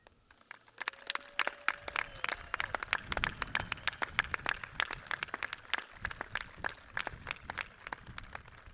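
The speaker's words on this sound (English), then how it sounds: "please stand for a round of applause" An audience applauds at a 2021 ICS graduation ceremony, steady rounds of clapping from a crowd that build and continue throughout, moderately close.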